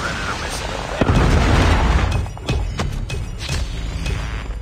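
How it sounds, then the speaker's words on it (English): A Predator missile strike in Call of Duty Mobile lands with a heavy, sustained boom that rumbles for about a second, followed by scattered sharp pops of gunfire under game voices. "Friendly Predator missile inbound."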